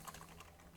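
Keys tapped on a computer keyboard in a quick, light run of clicks, faint and close, with no voices.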